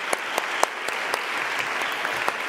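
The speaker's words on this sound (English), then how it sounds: "let's just give a round of applause for these 100 people, more than 100 people" Conference audience applause fills the room, a dense and steady clapping with a few sharper claps standing out, close and continuous throughout.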